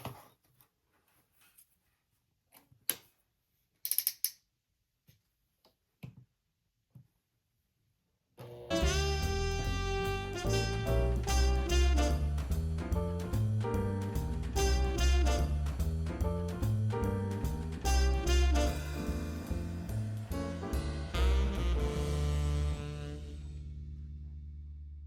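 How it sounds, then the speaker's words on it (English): Sewing machine stitching up the folded, clipped sides of a fabric tissue pouch, a steady loud mechanical run of rapid stitches for about fifteen seconds that slows and stops, after a few faint handling taps. "with these folded and clipped, I'm ready to sew up these sides."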